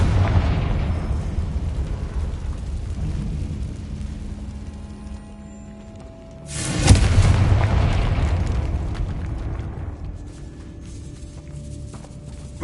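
Fire-blast spell explosions in the video game Hogwarts Legacy, cast inside a decaying catacomb: low rumbling booms under a dark ambient bed, with one sharp, loud blast midway that rings out and slowly fades.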